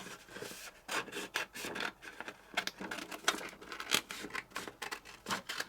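Scissors snip and rasp around a glued paper craft tag in a series of irregular, close, crisp cuts and rubbing strokes with short pauses between them.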